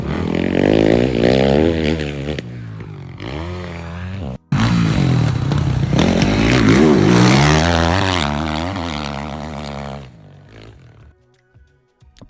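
Motocross motorcycle engine revving and roaring during team testing on hard soil ahead of the Motocross of Nations, loud and close with rising and falling pitch, a brief cut, then fading away.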